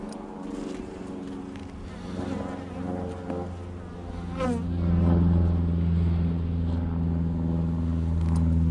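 Honeybees hum and buzz around an open beehive during a March inspection of a hive being harvested for honey, a dense, loud, close drone that swells and steadies toward the end.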